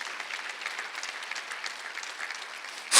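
A church congregation at a Sunday worship service claps together, a soft, distant, steady patter of many hands lasting a few seconds before a sudden loud noise cuts in at the very end.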